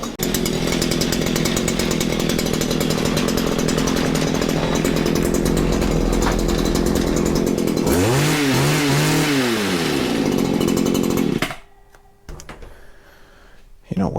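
A Stihl FS94 string trimmer engine runs at a loud, steady idle while warming up, then revs and cuts out near the end, leaving only faint background noise.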